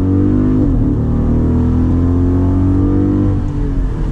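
A 500+ hp car pulls hard at full throttle, its loud, close engine note rising steadily in pitch as it accelerates, with no talk over it.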